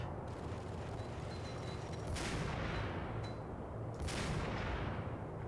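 Heavy shots boom over a constant roar of noise in the Max Payne video game, with two sharp, loud blasts standing out about two seconds apart, each trailing off into a long rumble.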